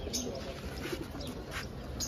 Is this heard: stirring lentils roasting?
no